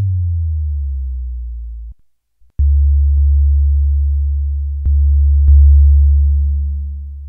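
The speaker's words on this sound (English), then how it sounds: "But we can get some really nice, beautiful bassy tones out of that." A Behringer Pro-800 synthesizer plays deep, pure bass tones, one held note that fades out, a brief gap, then another sustained low note with small clicks at note changes, clean and alone.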